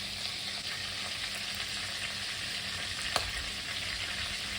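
Whole cardamom pods, cloves and a bay leaf frying in oil for a prawn malai curry, a steady, even sizzle and crackle held close throughout, with one faint clink and no speech.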